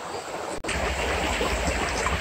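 A forest stream flows close by with a steady broadband rush and gurgle, briefly cut to silence for an instant before resuming at the same even level.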